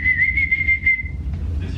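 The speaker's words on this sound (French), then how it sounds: "T'as vu comment je siffle bien? T'as vu comment je siffle fort genre?" A person whistling loudly without fingers, one sharp high sustained note held for about a second, close and clear, followed by faint shuffling.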